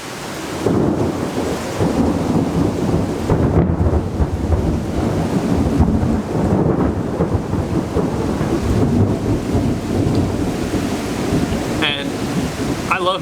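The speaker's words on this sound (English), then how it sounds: "But thunder is like just ridiculously loud," Heavy rain pours down while thunder rumbles loudly and continuously, rolling in deep waves through the whole stretch.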